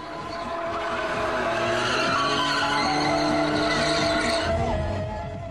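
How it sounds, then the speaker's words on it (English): Volkswagen Golf GTI cars doing tire burnouts at the Wörthersee GTI festival, with sustained loud tire squeal and skidding over revving engines, continuous and close for several seconds. "At the burnout area, GTI fans could put their cars and tires through a real workout."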